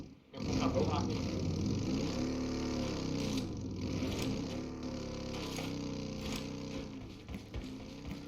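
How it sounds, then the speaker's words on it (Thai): Car driven in a Thai-language multiplayer video game, its engine droning steadily and close for most of the clip, shifting in pitch as it revs, with players talking over it. "เดี๋ยวผมขับรถมาพี่"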